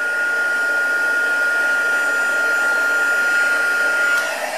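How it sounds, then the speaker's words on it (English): A handheld heat tool blows continuously while warming the back of a paper card, producing a steady, loud airy roar with a thin constant whine that stops near the end. "I'm going to just heat it a little bit more from the back just to help straighten the card out."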